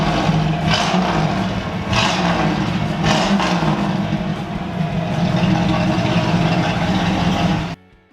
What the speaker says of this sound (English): Check out that exhaust for a second.